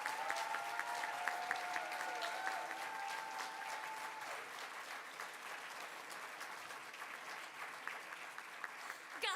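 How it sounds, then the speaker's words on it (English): Audience applause for the volunteers at the CONvergence 2022 convention closing ceremony, steady broadband clapping from a large crowd for nine seconds, with a sustained whistle or tone early on that fades at about four seconds. "let's have a big round of applause for all of our fabulous CONvergence volunteers"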